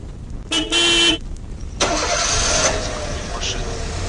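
In the Evil Nun video game, a car engine starts with a short horn-like toot, then catches and runs at a steady mid-pitched idle, fairly loud and close, with voices overlapping.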